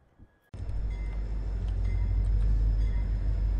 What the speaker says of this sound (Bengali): এখন আমাদের ট্রেনটা ছেড়ে দিল হচ্ছে মণ্ডপম রেলওয়ে স্টেশন থেকে।